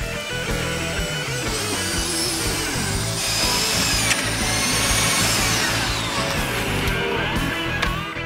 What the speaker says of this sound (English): The only reason Cornel's drilling better than I am is because he quickly snagged the better bit